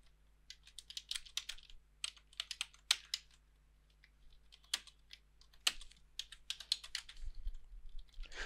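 Rapid, irregular keystrokes on a computer keyboard while HTML form code is entered, heard close and clear in quick bursts with short pauses, and no talking over them.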